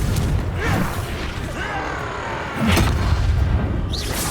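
Blasting spell cast during a spell duel in Hogwarts Legacy, a booming magical burst with crackling debris and mechanical clatter, landing in two loud surges over continuous game ambience.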